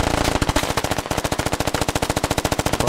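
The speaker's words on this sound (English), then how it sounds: "Bartok gets shot up in the field, trying to make it to the big rocks" Machine gun fire in the video game SquadOps rattles in a long, fast, evenly spaced burst of sharp shots, loud and close, with a brief break near the start and no talking.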